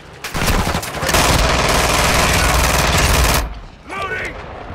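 Sustained, loud automatic gunfire from a shooter video game fills most of the span, a dense rapid rattle that cuts off abruptly, followed by a brief voice.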